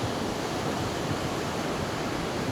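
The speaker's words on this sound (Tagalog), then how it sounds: "Ang lalaki ng alon." Big waves crash at Boracay beach at high tide in the rainy season, making a loud, steady roar of surf that fills the whole stretch with no talk.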